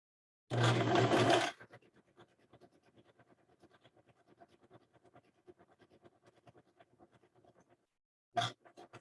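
A sewing machine stitching knit fabric gives a loud burst of fast, whirring stitches, then a long stretch of faint, steady ticking, and ends with another short burst of stitching.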